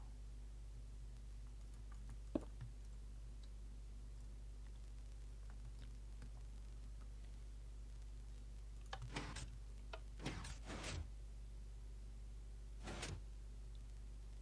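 A Minecraft piston-driven sliding door, 4 by 12 and opening sideways, with a single click early on, then several bursts of sliding piston whooshes in quick succession, moderately loud and with no talk.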